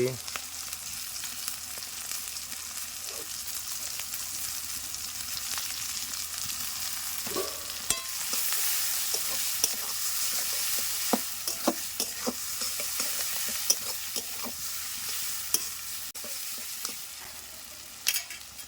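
Chopped onion and green chili fry in a pan for a potato chicken curry, making a continuous moderate sizzle broken by sharp clicks and scrapes of stirring, with no speech.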